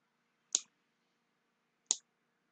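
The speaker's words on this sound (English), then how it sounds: "the scissors make a snippy noise when you're doing this" Two sharp, crisp snips of scissors cutting fabric, spaced over a second apart, close and quiet against near silence.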